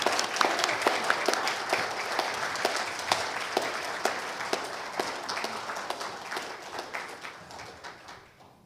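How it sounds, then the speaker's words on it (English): Applause from a Unitarian Universalist Sunday service congregation welcoming new members, a steady wash of many hands clapping that holds strong and then gradually thins and fades toward the end, with no talk over it. "please welcome them with your heartfelt applause"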